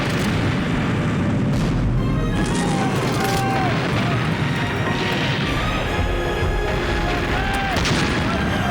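Ship's cannons firing in a naval battle, heavy booms and crashing blasts over a constant loud rumble, with shouting voices mixed in throughout.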